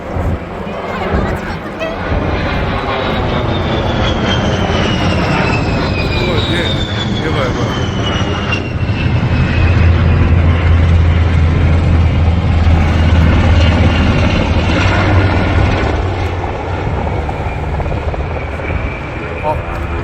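Helicopters and airplanes fly close overhead at an air show in Sacheon, South Korea, producing a loud, continuous engine and rotor roar that swells and holds steady throughout, with people talking over it.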